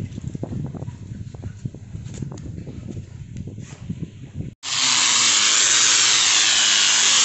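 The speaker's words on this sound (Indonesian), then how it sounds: "Oke, nanti kita langsung aja amplas ya teman-teman ya." Uneven rasping and scraping strokes of sanding on a wooden speaker box textured with ceramic tile grout, then an abrupt switch to the loud, steady whir of a power sander running.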